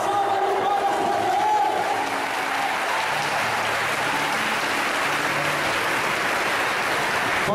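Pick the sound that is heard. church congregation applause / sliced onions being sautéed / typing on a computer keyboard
church congregation applause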